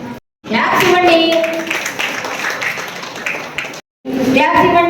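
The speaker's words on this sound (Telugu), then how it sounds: "క్లాప్స్ ఇవ్వండి." An audience claps at a school award ceremony honouring top students, with bursts of applause mixed under a loud amplified voice and broken by two short silences.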